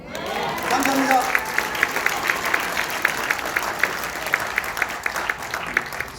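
Applause from an audience at a lecture-style gathering, steady dense clapping that fills the room, with a few louder individual claps standing out at regular intervals; a voice is briefly heard near the start.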